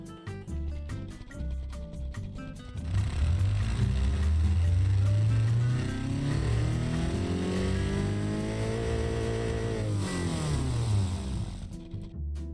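A 1.4 liter inline-four car engine in the Automation game revs up from idle, climbing steadily in pitch to a loud sustained high-rev drone, then drops back and climbs again, heard alone and close.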